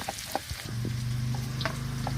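Chopped onion frying in the oil left from frying fish gives a steady close sizzle with a few stirring clicks and scrapes, louder after the onion goes in, with no talking.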